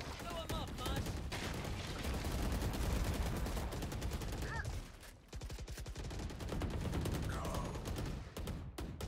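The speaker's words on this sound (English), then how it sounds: "A lot of gunfire going down, but just the one kill" Gunfire in the tactical shooter Valorant: dense, rapid shots crackle almost nonstop, with a short lull near the middle before the firing resumes, and a voice faintly under the din.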